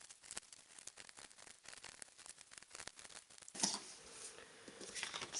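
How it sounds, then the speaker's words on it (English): Black card stock cut with scissors or a blade for a vanity box, a run of quick, faint snipping and scraping ticks close up, then a rougher rustling stretch, with no speech. "So I'll go ahead and cut the black one."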